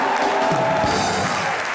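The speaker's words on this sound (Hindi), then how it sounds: "एक बार जोरदार तालियां करण सर के लिए।" A studio audience at a televised Hindi comedy show breaks into loud, dense applause for Karan, a steady wash of clapping with no one speaking over it.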